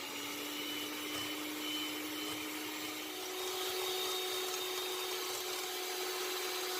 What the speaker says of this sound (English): I'm gonna use my electric mixer to save some, elbow grease.